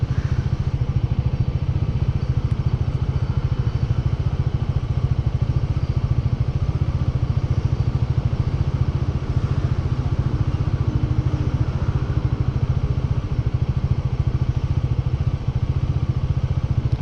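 A single-cylinder Bajaj Dominar 400 UG motorcycle engine thumps steadily and loudly throughout while riding, with a rattly, tinny drone and no talking.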